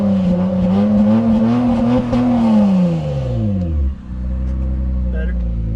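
Car engine with all three of its mufflers removed, revving loud and raw up close, pitch climbing and then sliding down before it settles into a rough idle.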